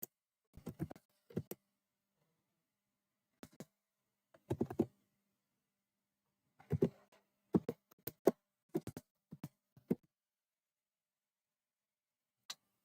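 Computer keyboard typed on in short bursts of quick key clicks separated by pauses, close and quiet in an otherwise silent room.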